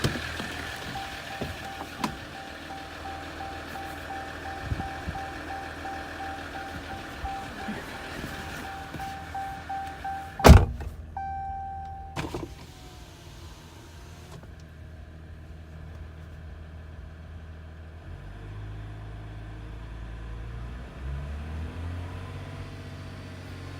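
A Ram EcoDiesel engine fitted with an AutoZone aftermarket intake, idling with a steady rumble, then briefly revving up and settling back to idle, heard close to the engine.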